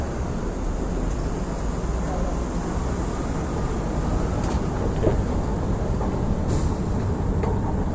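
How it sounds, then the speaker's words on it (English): An ambulance siren wails and yelps at a moderate distance in Tikkurila, Finland, its tone sweeping up and down over a low background of traffic noise. "There's a train here."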